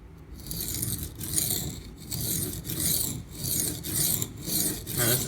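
A knife blade is sharpened on the coarse side of a Schrade Old Timer stone lubricated with baby oil, giving repeated close rasping strokes, about six in a steady back-and-forth rhythm.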